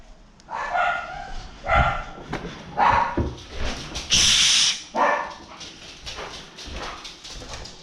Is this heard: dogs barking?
yes